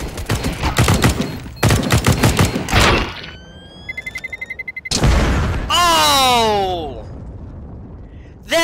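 Gunfire in the game CS:GO comes in several loud, close bursts of rapid shots with a few separate single shots. Someone talks and exclaims between and over the firing.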